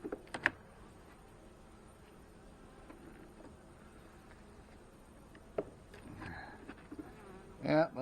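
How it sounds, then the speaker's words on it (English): Honey bees buzz faintly in an opened hive during a food-store check, a soft insect hum broken by occasional knocks and handling noises. "Oh, good cluster of bees here."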